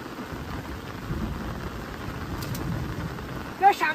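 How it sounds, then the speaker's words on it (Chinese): Heavy rain falling over an outdoor fish pond during a storm, a dense, steady hiss of downpour with a brief louder crack or clap near the end. "老天爷啊，不要再下雨了，再下下去这个鱼塘就啰嗦了。"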